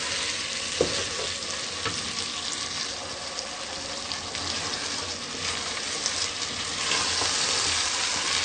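Cauliflower and peas frying in a pan give off a dense, steady sizzle at close range, with a few soft stirring knocks and a slight rise in intensity near the end.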